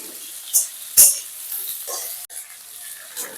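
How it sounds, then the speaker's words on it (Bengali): Potatoes frying in a pan for an aloo palak dish, a soft sizzle broken by a few sharp stirring scrapes and clinks, close by with no talk. "এবার আলুগুলোকে একটু ভেজে নেব আলুটা একটু লাল করে ভেজে নেব"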